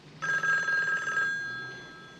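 A telephone bell rings once in a home, a bright, loud trilling burst that stops abruptly and leaves a fading ringing tail.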